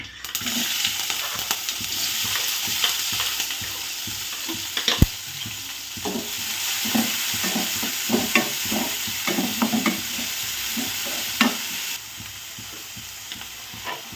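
Onion and green chillies sizzle in hot oil with popped mustard seeds and cumin, a steady close frying hiss broken by scraping stirs and a few sharp clinks, with no voices.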